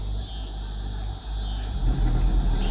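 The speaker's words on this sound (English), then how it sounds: "I had to let that damn truck go by with that goofy shit playing." A truck rolls past with loud music blaring from it, a steady close rumble and engine drone that swells toward the end, with no talking.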